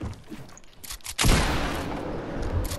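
Shotgun fire rings out in the video game Fortnite: soft scattered clicks and movement sounds, then a sharp, loud blast followed by a long rumbling roar of gunfire and explosions nearby.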